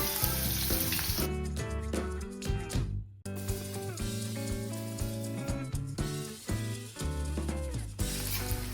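Onion with cumin and mustard seeds fries in hot oil, a continuous close sizzle heard beneath loud background music for the whole stretch.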